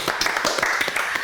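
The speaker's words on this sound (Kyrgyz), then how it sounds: "кол чабуулар" Studio audience on a Kyrgyz TV show applauding to welcome footballers from the Abdysh-Ata football club, a steady burst of clapping with close, distinct claps throughout.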